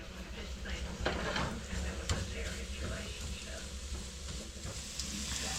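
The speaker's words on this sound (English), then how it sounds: "The idea here is to brown this bacon before I add anything in there." Small cut bacon pieces brown in a pan over medium heat, giving a soft, continuous sizzle with scattered scrapes and clinks of a utensil against the pan.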